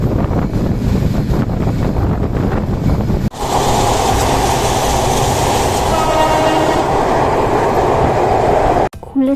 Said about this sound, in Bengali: আমরা কমলাপুর রেল স্টেশন থেকে জাহানাবাদ এক্সপ্রেসে করে রাত 8টার ট্রেনে খুলনা যাওয়ার জন্য রওনা হয়ে যাই